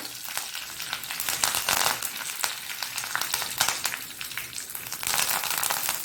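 Mustard seeds, urad dal and curry leaves fry in hot oil for a tempering, giving a loud, dense crackling sizzle close up with bursts of spitting and popping throughout.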